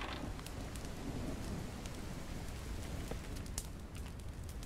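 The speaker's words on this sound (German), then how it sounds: "Ach, es regnet." Rain falls steadily in the Mist Survival video game as a dense, even hiss, with scattered close drop ticks and a low rumble underneath.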